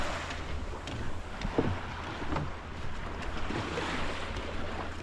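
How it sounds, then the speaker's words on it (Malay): A water taxi boat travels across the sea between bays in Malaysia, its motor droning under rushing wind and splashing waves against the hull, steady and close with no voices. "Ini taksi air kami."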